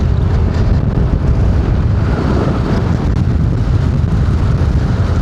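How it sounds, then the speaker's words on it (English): Wind blows hard by a river, buffeting the microphone with a loud, constant rushing roar that barely varies across the few seconds. "it's windy over here also"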